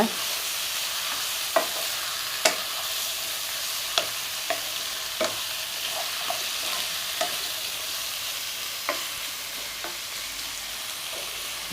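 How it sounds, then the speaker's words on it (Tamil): Chicken sautés in a pan for Gongura chicken, a steady soft sizzle running throughout, punctuated by sharp scattered taps and scrapes of a stirring spoon against the pan. "இப்போ சிக்கன் வதங்கி அதுவே தண்ணி விடும் கொஞ்சமாக அது வரைக்கும் நம்ம வதக்கலாம்"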